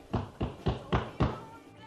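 Five firm knocks on a door, evenly spaced and close up, used as a sound effect in a Spanish radio play about a witch at home.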